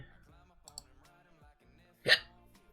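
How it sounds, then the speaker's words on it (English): One sharp, brief hiccup from a person sitting close by, following a stretch of faint, low background sound. "Oh, hiccup."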